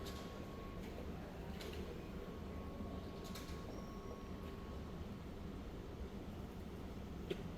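A Dubai Metro Green Line train rolls along with a steady low rumble and hum throughout, faint high squeals and brief clicks now and then, heard from inside the carriage with no talk.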